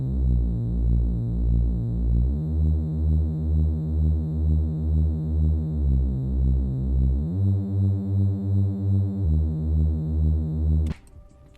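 A mono legato Reese bass synth for a future garage track plays a deep, buzzing sustained line. Portamento slides glide between a handful of held notes, and a short noisy burst sounds at the very end.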